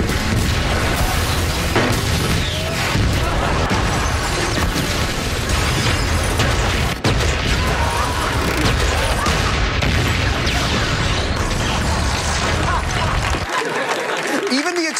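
Explosions from Michael Bay's TV show The Last Ship roar in a dense, continuous wall of loud booms and blasts for the whole stretch, then cut off abruptly near the end.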